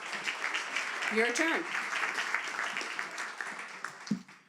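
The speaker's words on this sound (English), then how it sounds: "hand of applause for Oscar" An audience at an authors' event applauding a speaker named Oscar, sustained clapping under a brief spoken remark and a voice near the end.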